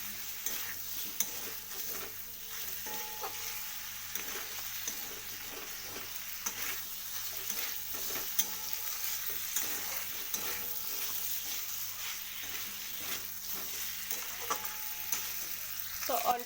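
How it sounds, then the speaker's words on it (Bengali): Bottle gourd and chicken curry sautéed and stirred in a pan, giving a steady low sizzle with soft scraping stir strokes throughout, fairly quiet and with no talking. "তো দেখুন একটু বেশিক্ষণ করে কষে নিতে হবে।"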